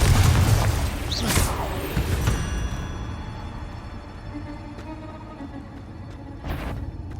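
Confringo fire spell from Hogwarts Legacy erupting in a heavy boom with crackling debris, followed by a lower rumble and a second sharp burst near the end.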